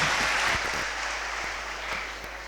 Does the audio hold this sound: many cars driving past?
no